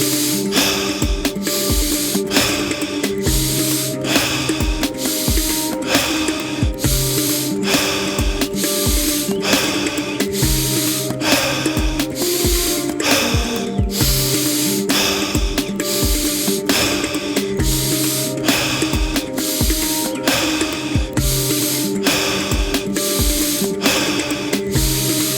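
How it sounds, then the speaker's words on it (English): Alkaline breathing exercise outdoors: rapid, forceful breaths in a fast, regular, loud and close rhythm of sharp hissing puffs that runs steadily for about 25 seconds, with no talking. "Alkaline breathing."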